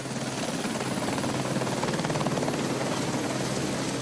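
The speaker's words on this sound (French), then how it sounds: "Au début, l'équipement minier était acheminé par hélicoptère." Steady, close helicopter rotor drone carrying mining equipment, a continuous loud whir with a rhythmic blade chop throughout and no voices.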